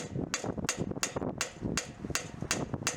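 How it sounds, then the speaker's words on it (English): A hammer gently taps under the lip of a loose transmission dipstick tube on a rear-wheel-drive 4L60E gearbox, giving about eight sharp, close metallic knocks in a steady, even rhythm. "I get underneath the ridge, the little lip on the dipstick tube, and I gently tap it until it comes out."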